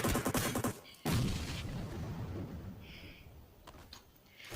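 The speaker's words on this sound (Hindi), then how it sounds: "ये देखिए इस फ्रैग ग्रेनेड से एक बंदा नॉक हो चुका है।" A frag grenade detonates in the mobile game PUBG Mobile, a loud boom after a quick spray of shots, then a long fading rumble with faint game sounds in the background.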